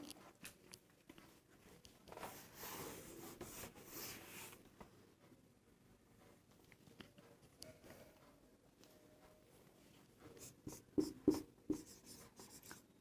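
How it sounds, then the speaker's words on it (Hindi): Pen or chalk scratching out notes during a classroom lesson on metals and non-metals, quiet strokes and taps coming in uneven bursts, busier and louder toward the end, with no talking. "इसको नोट करने के बाद एक पॉइंट और लिखेंगे"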